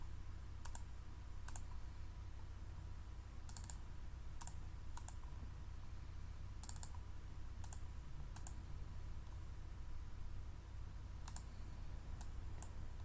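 Computer mouse and keyboard clicks come from a PC during a game sim session. Faint, sharp, isolated clicks are scattered irregularly over a low steady hum, and no one speaks.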